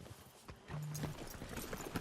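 Horses' hooves clip-clopping in Red Dead Redemption 2, quiet irregular hoofbeats on the ground with a brief tonal hum partway through, and no speech.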